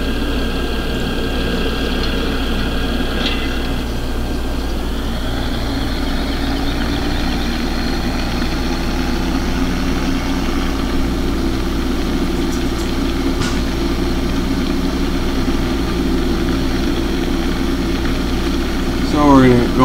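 A tractor engine idles on a farm with a loud, steady low rumble and hum that holds unchanged throughout, with a brief chirp-like squeak near the end.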